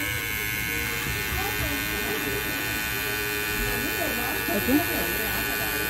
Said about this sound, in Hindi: पूरे बालों को हल्के हल्के हाथों से एकदम हल्का ट्रिमर चलाना है, बिल्कुल भी दबाव नहीं देना